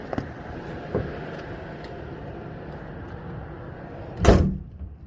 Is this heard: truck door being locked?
yes